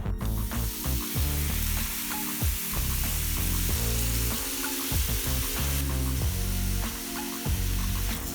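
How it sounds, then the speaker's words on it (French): Bacon fries in a pan with a loud, continuous sizzle and crackle, dotted with small pops and spits throughout, heard up close and without talk. "Ensuite, on fait griller le bacon."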